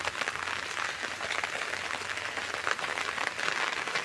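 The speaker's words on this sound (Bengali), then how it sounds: "একদম ভোরবেলা থেকে হচ্ছে বৃষ্টি শুরু হয়ে গেছে" Steady rain pattering on a village path in rural Bengal, a dense, even hiss of drops that continues without a break.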